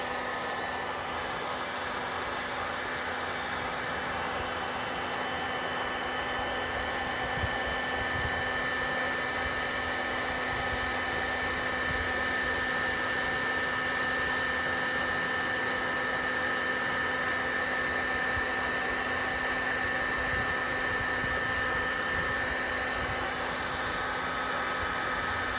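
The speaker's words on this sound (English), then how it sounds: "I'm gonna post heat this area. I'm gonna give this area a lot of heat." A heat gun blows a constant airy roar with a faint whine as it post-heats vinyl wrap on a Tesla rear bumper, steady and unbroken for the whole stretch.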